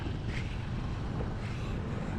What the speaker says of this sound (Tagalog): Tapos malakas pa yung hangin.